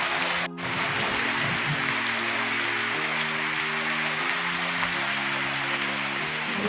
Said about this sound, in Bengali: আর সাথে কিন্তু বৃষ্টি, ভালো বৃষ্টি নেমেছে।